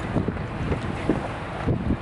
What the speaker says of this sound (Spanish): se vino el aire bien fuerte